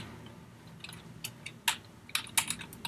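Typing C++ code on a computer keyboard: a sparse run of soft, close key clicks, with a few sharper taps near the end, alone with no talk.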